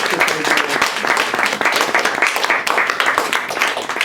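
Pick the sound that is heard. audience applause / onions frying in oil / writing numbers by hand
audience applause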